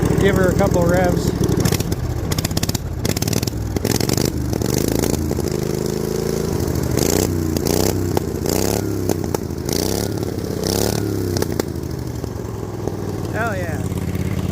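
A snow mower engine revs loudly and close by, its pitch climbing and falling through repeated bursts with rattling clatter, while people talk over it.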